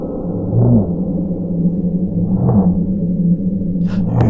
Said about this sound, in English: I was really hearing this like whoom, whoom sound underneath the main beat